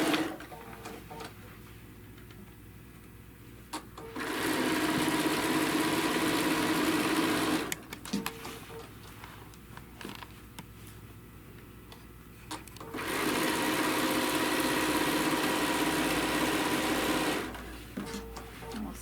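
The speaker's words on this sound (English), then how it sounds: "I'm going to go ahead and 1/4 inch seam all the way down that side" A sewing machine runs a quarter-inch seam down quilt fabric in two long, steady bursts of whirring stitching with a quiet pause between, close up and without speech.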